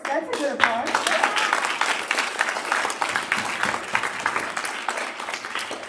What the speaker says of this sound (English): that's a good applause